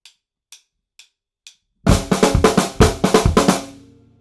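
Four soft, evenly spaced clicks count in, then a disco drum fill plays entirely on the snare with a flam on the first beat and kicks underneath, a quick run of loud hits that ends with a ringing decay.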